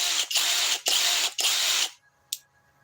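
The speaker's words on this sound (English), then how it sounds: "This is their quiet impact driver." A Master Force Boost quiet impact driver powered by a 4 amp-hour DeWalt battery through an adapter, running in three loud bursts of buzzing hammering with short gaps, then a brief faint click after it stops.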